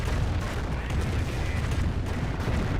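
Rocket barrage explosions roll continuously through a Company of Heroes battle, a dense, rumbling wash of low booms and crackling blasts at steady loudness with no clear gaps.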